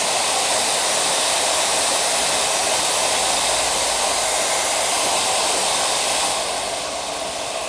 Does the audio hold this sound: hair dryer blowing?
yes